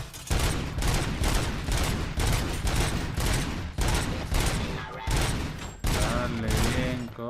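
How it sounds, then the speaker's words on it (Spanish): Rapid bursts of gunfire in the video game Robocop Rogue City, loud and sustained, with repeated volleys broken by brief gaps, and a voice heard faintly among the shots. "¿Quién dispara por aquí?"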